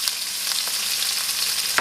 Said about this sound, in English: Into a pot, add some oil, and into that add the curry leaves and cinnamon, and into that add the onion and the garlic.